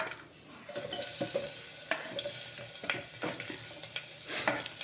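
Garlic hits a hot pan for pepper rasam and bursts into a steady, close sizzle, with scattered clicks and scrapes of stirring over the frying, no voices.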